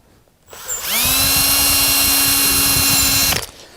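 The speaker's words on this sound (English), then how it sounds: "Okay, I'm all the way through with the second drill bit." A drill bores through a carburetor housing, spinning up into a loud, steady high whine that holds for about two and a half seconds before cutting off.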